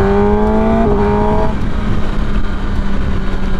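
A stock 2019 Kawasaki ZX10R sport bike on a wet highway, its engine note climbing in rising tones before the pitch breaks off and settles into a loud, rough road and wind roar.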